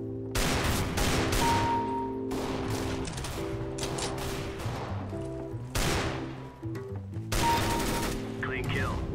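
Desert Eagle pistol fire in CS:GO, as several loud, sharp single shots in an uneven rhythm, each ringing briefly over a steady game music bed.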